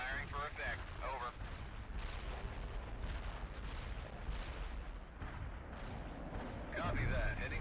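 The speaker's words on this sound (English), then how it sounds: "Artillery barrage inbound." Artillery barrage in the World In Conflict video game, a rolling series of heavy booming impacts and rumbling blasts, fairly distant and continuous, with radio-style voices talking over it at the start and end.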